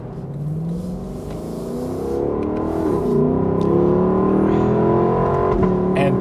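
A 2022 Lexus LC 500 convertible's naturally aspirated 5-liter V8 rises steadily in pitch as it revs and accelerates, a loud, continuous, close engine note building over several seconds.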